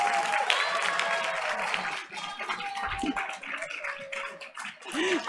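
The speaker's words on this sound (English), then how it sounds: "let's give all of tonight's Outstanding Award honorees one more round of applause" An audience at a school board of education meeting gives award honorees a round of applause, a steady wash of clapping that fades midway and swells again, with faint voices mixed in.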